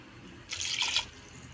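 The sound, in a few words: pouring water into cooking pot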